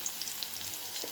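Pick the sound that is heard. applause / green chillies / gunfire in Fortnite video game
green chillies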